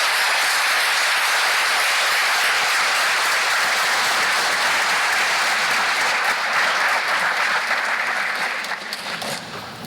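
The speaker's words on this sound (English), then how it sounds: "Please give them all a big round of applause." Sustained applause from an audience honouring military veterans, current service members and their families, a dense steady clatter of many hands that carries loudly throughout and tapers slightly at the very end.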